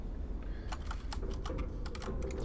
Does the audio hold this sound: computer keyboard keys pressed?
yes